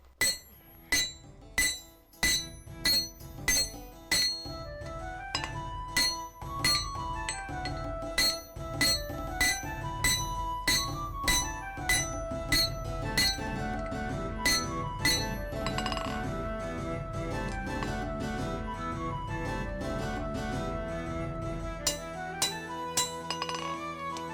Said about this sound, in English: the steel on steel on steel is causing a wicked ring